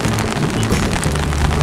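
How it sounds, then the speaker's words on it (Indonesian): Rain falls in a steady, dense hiss with a soft low rumble, continuous and fairly loud with no voices. "Hujan."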